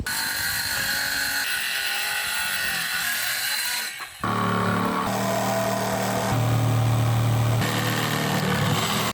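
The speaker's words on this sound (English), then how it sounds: "I used the Diablo fast wood jigsaw blades" A jigsaw fitted with a Diablo fast wood blade cuts through 1.5 inch cedar for a fire pit table, a loud, steady buzzing drone that drops out for a moment near the middle and then resumes alone without talk.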